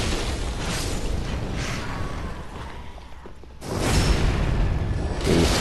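Enemy fire spells burst in Dark Souls 3, with repeated whooshing booms and explosive pops, quieter at first and then swelling into a louder blast near the end.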